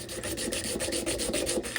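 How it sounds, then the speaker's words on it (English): Wet sanding a small resin charm on 240 grit sandpaper: fast, even rubbing strokes, about six per second, close and moderately loud, with no voice. "I'm going to take it on my 240 sandpaper here, my roughest one."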